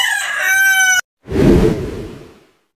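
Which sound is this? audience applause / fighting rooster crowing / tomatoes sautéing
fighting rooster crowing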